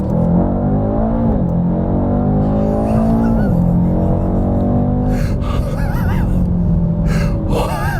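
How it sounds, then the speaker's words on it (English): A 2018 Mercedes-AMG E63S wagon pulls hard at full throttle on an open straightaway, its engine note rising in steady harmonic sweeps with gear shifts, loud and close from inside the cabin. "I floor it and the car just takes off"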